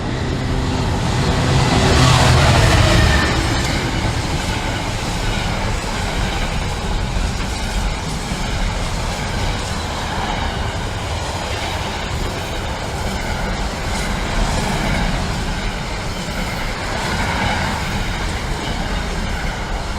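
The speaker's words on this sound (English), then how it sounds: "The next train is a freight train from Hams Hall to Felixstowe." A freight train from Hams Hall to Felixstowe rumbles through Stowmarket station, a steady loud roar of wheels and wagons that swells early on and then holds level for the whole pass, with no voices.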